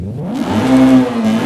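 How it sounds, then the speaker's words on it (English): BMW M3 fitted with a race exhaust in Forza Horizon 5, one loud rev climbing sharply into a strained, buzzy high-revving note that holds and then dips slightly, engine alone without speech. "And here's the race exhaust now."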